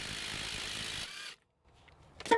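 An impact wrench loosens the front strut nut on a 2007-2013 Acura MDX with a steady rattling whir for about a second. After a brief silence come a few close metallic clicks.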